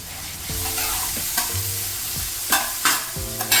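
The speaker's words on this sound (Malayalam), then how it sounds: "സവാളയുടെ നിറമൊന്ന് ലൈറ്റായിട്ട് മാറുന്നവരെ നമുക്കൊന്ന് സോട്ട് ചെയ്ത് കൊടുക്കാം" Thinly sliced onions sautéing in a pan for tawa veg pulao, a steady close sizzle with a few scrapes of a stirring utensil, alone without talk.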